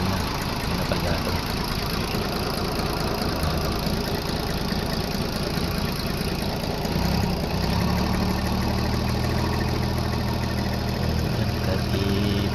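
A Mitsubishi 6D16 diesel truck engine, recently repaired after misfiring and smoking, runs close by with a loud, steady rough clatter and deep rumble that rises slightly toward the end.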